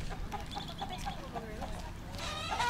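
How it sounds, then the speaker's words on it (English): Chickens and roosters cluck in short repeated bursts beside a road in rural northern Thailand, moderately close, with a slightly louder squawk near the end over a low background rumble. "There's cocks running across the road, chickens running across the road."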